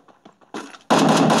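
Explosions and gunfire in a Garena Free Fire esports match at the Sea-In Invitational 2019: a few soft pops, then a loud blast that breaks into a sustained roaring burst, close and alone.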